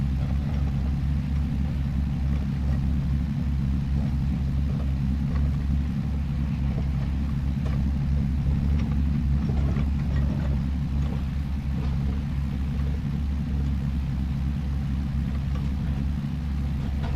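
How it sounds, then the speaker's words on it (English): Tractor engine in Farming Simulator 25 running steadily with a deep, continuous low rumble at even loudness throughout, no talk over it. "I do like this tractor."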